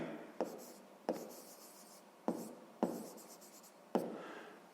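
A pen writes on paper while a sixth-grade maths solution is worked out. Five short, crisp strokes land at irregular intervals, each followed by a fading scratch. The writing is close and fairly quiet, with no talking.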